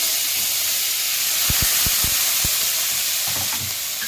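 Oil and vegetables fry loudly in a pan while capsicum rice is cooked, a continuous close hiss and sizzle with a few soft knocks of a utensil against the pan partway through.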